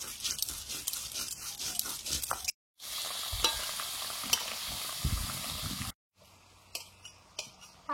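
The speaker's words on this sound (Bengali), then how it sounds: "হালকা করে ভেজে নিচ্ছি।" Potatoes frying lightly in a pan for a Bengali lunch, a close sizzle with stirring and utensil scrapes, broken by two short pauses, no talk.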